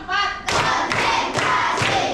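A group of people clapping together on a counted beat, loud sharp bursts of claps landing in a regular rhythm about every half second after a brief voiced shout at the start.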